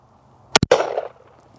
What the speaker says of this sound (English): Glock 21, chambered in 45 ACP